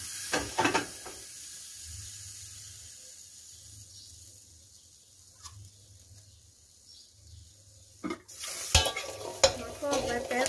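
Enoki mushroom chili paste dry-roasts in a pan as a utensil scrapes and stirs in a few bursts, with soft rhythmic scraping and a faint low sizzle between them.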